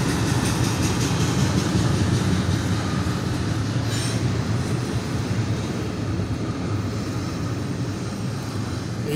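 An eastbound CSX mixed freight train with containers rolls steadily past nearby, a loud continuous rumble of wheels and cars with faint squeal and no voices.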